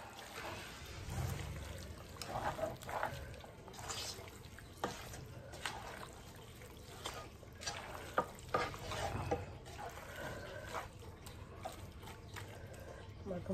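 Mutton for rezala is worked by hand with ginger, garlic and spices, giving wet squelching, kneading and slapping sounds with scattered clinks, close up, with a voice heard at times.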